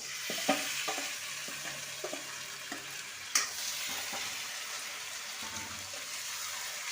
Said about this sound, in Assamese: এইখিনি এতিয়া 15-20 মিনিট ভাজিব